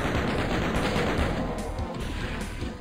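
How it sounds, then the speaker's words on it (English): Rapid chain gun fire in the classic shooter Doom, a dense, continuous burst of loud repeated shots that runs without a break for nearly three seconds. "I'll switch to the chain gun"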